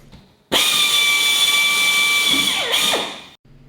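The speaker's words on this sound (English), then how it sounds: "Much more drilling." A power drill whines loudly at a steady high pitch as it bores into metal for a Land Rover Series 3 seat box, then dips and drops off as the bit breaks through.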